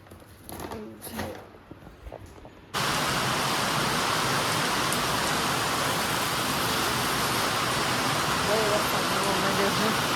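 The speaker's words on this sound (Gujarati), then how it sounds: "કેટલો બધો વરસાદ આવે અચાનક થયો" Sudden heavy rain bursts in after a few seconds of quieter background sounds, a loud, steady broadband downpour that continues unbroken to the end.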